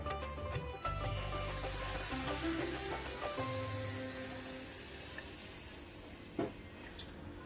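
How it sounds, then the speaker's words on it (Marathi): Water from cooked dal for puran poli katachi amti poured into hot oil and spices in a pan, giving a loud, dense sizzle and bubbling that stays steady throughout, with a brief clank near the end. "पुरणपोळीची जी डाळ शिजवून घेतली आहे ते जे पाणी आहे ते इथं आपण टाकून घेणार आहे।"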